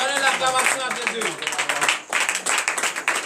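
A church congregation at a night deliverance and prophecy service in Comè, Benin, bursts into clapping and acclaim, with dense hand claps and raised voices and cheers layered together throughout.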